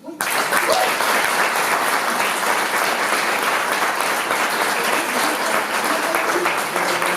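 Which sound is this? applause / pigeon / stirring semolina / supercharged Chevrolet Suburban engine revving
applause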